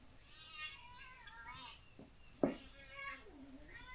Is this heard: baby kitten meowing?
yes